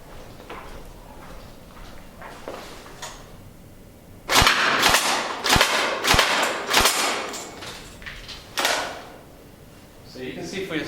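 A Tokyo Marui AA-12 airsoft shotgun fires at a cardboard target, a loud burst of about five sharp snapping shots in quick succession followed by one more shot, with quieter handling sounds around them.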